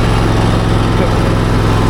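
Exmark riding lawn mower engine running steadily and loud, a constant close drone with a low rumbling hum throughout, no other sounds standing out.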